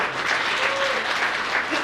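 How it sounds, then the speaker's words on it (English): Audience at a reunion gathering clapping steadily in a dense, even round of applause that fills the whole moment, with no voices over it. "One more round of applause."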